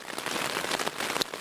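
Rain falling on a tent while camping in the woods, a dense steady pattering of drops on the fabric close overhead, continuous and fairly soft.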